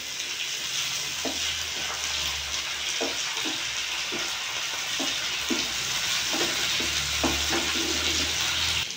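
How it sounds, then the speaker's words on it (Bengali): Chicken with chopped green chilli and ginger-garlic paste fries in a pan while being stirred, a steady close sizzle broken by repeated scraping and clinking stirring strokes, no talking. "আমি ভালো করে নাড়িয়ে নেবো।"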